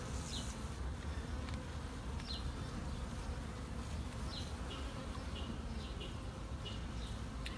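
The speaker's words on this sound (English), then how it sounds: "Up in David's farm, I recognized honeybees right away" Honeybees buzz steadily around a hive in a continuous, dense drone that stays loud and close throughout, with no talking.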